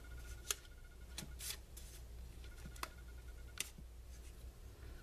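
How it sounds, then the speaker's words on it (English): Tape being wrapped over the cut edges of a glass palette: quiet, sparse crinkles, taps and short tearing clicks spaced irregularly against a faint room hiss. "now I'll wrap the tape over on the back"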